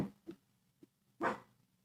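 A dog gives a few short barks and yips close by, with soft whimper-like sounds between them and no talking.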